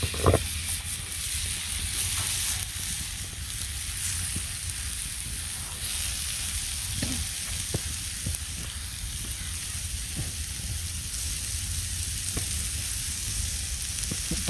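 Paneer frying in oil on a hot stone outdoors in a forest, a steady close sizzle and hiss running throughout with occasional faint stirring clicks.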